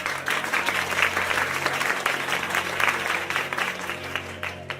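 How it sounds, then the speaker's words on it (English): An audience at the PokerStars Barcelona Main Event final table claps for the tournament staff, a broad, continuous wash of many hands applauding at moderate distance throughout. "we can give a big applause to all the staff involved to the tournament"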